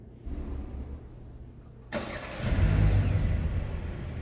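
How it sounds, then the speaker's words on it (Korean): A 2024 Kia K5 engine starts by smart key remote start: a short quiet pause, then the starter catches and the engine fires up and settles into a steady nearby idle. "여기 깜빡깜빡하면 시동이 걸린 거죠."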